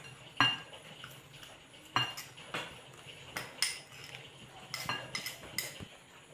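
A spoon clinks against a bowl while noodles are stirred with mimi masala, dalmoth and seasoning oil, giving sharp, irregular metallic taps and scrapes at close range with no voices.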